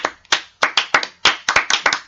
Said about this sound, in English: We got a couple of extra claps